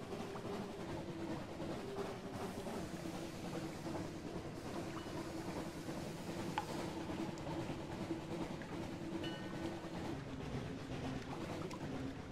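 A ship's engine in the video game Sunless Sea gives a steady, continuous low mechanical rumble with a rhythmic churning quality that holds at an even loudness throughout, with no talk over it.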